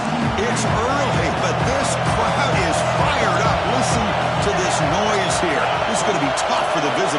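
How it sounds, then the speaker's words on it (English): Loud, steady roar of a fired-up stadium crowd at a football game, a dense wall of cheering with a commentator's voice running over it throughout. "this crowd is fired up. Listen to this noise here."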